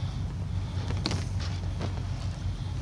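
Steady wind noise while sailing aboard a new 50-foot Amel yacht in about seven knots of breeze near Samos, a continuous low rumble and hiss with a few faint creaks and knocks over it.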